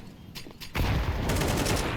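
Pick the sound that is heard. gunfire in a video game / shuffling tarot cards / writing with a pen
gunfire in a video game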